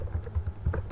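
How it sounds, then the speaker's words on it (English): Quick keystrokes on a computer keyboard, a brisk run of close, crisp clicks over about a second. "in the email section I will type a dummy email like"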